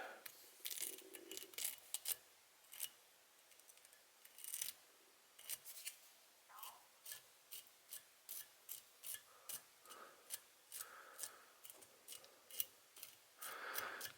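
Scissors snip tying thread on a Shenk's Cress Bug fly, giving a long run of crisp, close metallic clicks and snips, some irregular at first, then steady and rhythmic, with faint rustling between cuts.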